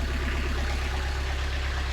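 A four-cylinder engine idles close by after a repair, with a steady low rhythmic thrum and an even, regular pulse throughout. No one speaks.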